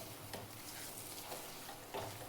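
Grated fresh coconut is stirred into rice flour batter for sweet khandvi as it cooks in a pan, with a quiet scraping and soft sizzle and a couple of slightly louder spoon knocks against the vessel.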